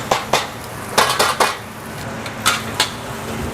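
Fried rice with salted squid stirred in a metal pan, close sharp clanks and scrapes of a spatula against the pan, irregular strokes over a low background hiss with no talk.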